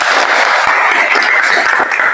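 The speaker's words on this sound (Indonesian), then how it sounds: "Mari kita beri tepuk tangan untuk Karin." A class of children applauds a classmate after a group presentation, with loud, close, continuous clapping that holds steady for a couple of seconds.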